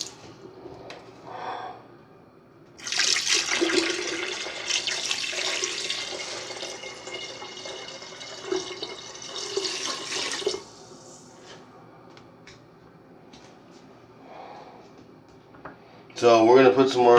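Ozarka natural spring water pours into a fish bowl in a steady, close splashing stream for several seconds, then stops, with another brief burst of pouring at the end.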